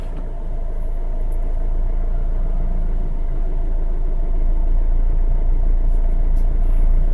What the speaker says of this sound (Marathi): RPM खाली खाली येते, नॉकिंग वाढते गाडीमध्ये.